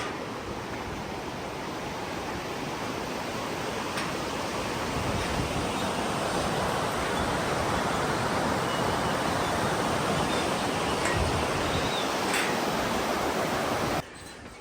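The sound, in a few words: river water flowing beneath suspension bridge in Nepal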